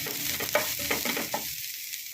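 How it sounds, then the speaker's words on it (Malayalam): Grated coconut and greens are sautéed in a pan, with a short run of sizzling broken by several quick scraping stirs that fade toward the end, and a last clink. "എല്ലാം കൂടെ വഴറ്റിയെടുക്കാം."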